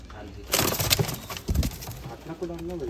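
Pigeons coo close by, with a rolling call near the end, among bumps, rustles and handling noises while people talk over imported pigeons.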